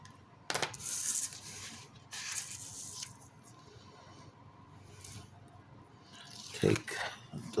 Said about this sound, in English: Now I'm going to varnish this down with the bone folder.